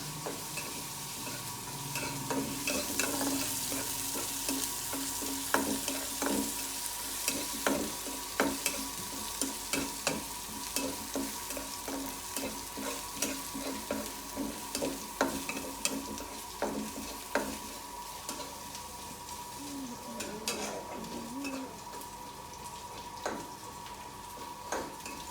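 Crushed garlic, pounded with a rolling pin, fries and is stirred in a pan for Sindhi tarayal wangar, steady soft sizzling under repeated scraping and clicking of the spoon against the pan.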